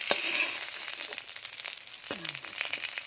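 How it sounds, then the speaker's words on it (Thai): Egg and mackerel frying in plenty of oil over a low flame give off a soft, steady sizzle with small crackles and pops. The sound stays close and fairly quiet, with no voices. "ทอดปลาทู ต้องใส่น้ำมันหลาย ไฟอ่อน ๆนะคะ ทอดนาน ๆ"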